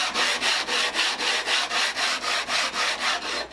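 The sole of a Sargent hand plane is rubbed back and forth on 80 grit sandpaper to flatten it, giving a loud, even rasping scrape in a steady rhythm of about three strokes per second, close up and with no voices.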